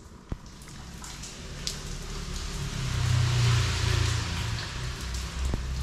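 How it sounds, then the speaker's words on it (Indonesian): Steady heavy rain hissing on a surface, with a low engine rumble swelling in the middle and a few sharp knocks. "Dan ternyata kondisinya sampai hari ini hujan deras"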